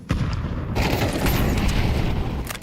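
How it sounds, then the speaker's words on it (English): Frag grenade going off in a Counter-Strike match, a sudden booming blast that holds as a broad rumbling roar for about two seconds, moderately loud with no talk over it. "Well-timed frag grenade."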